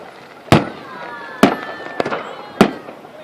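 Fireworks bursting at an outdoor display, four sharp loud bangs spaced roughly a second apart, each followed by crackling and a faint whistling trail, with people chatting faintly in the background.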